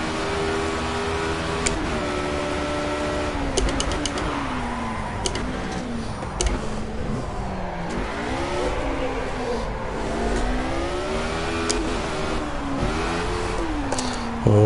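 A Formula A open-wheel race car engine in the Project CARS racing game drones loudly and continuously, its pitch rising and falling through revs and gear changes as the car slides through corners, with no talk over it.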